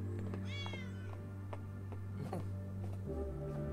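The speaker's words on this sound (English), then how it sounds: "Man, this cat keeps showing up." A cat meows several times in an anime volleyball episode, high drawn-out cries over a steady low background hum, clear and unaccompanied by talk.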